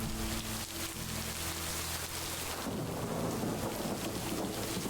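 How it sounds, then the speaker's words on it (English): A video game thunderstorm pours heavy, steady rain with a deep rolling rumble of thunder that swells and fades, loud and continuous throughout. "that's quite the storm"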